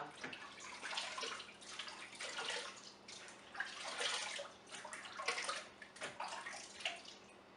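Water splashes and runs in uneven bursts as a face is rinsed of light lather, close and fairly soft, with no voices over it.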